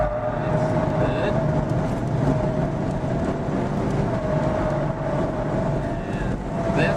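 Car engine running on a clockwise skidpad with the throttle lifted and reapplied, a steady broad roar mixed with wind buffeting, constant and loud throughout, voice instructions heard over it.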